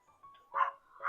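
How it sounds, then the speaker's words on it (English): A dog gives two short barks close by, the first after a faint brief whine, with quiet gaps between them and no talking over it. "Sorry for my dog."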